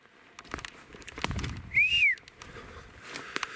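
A single rising-and-falling whistle in the woods, clear and moderately loud, cuts through a rustling outdoor background with scattered soft knocks and movement noise.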